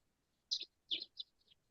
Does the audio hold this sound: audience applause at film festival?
no